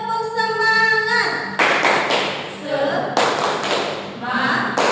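Primary school class performing tepuk semangat, a rhythmic group clapping game, with loud clustered claps in bursts and children's voices chanting between them.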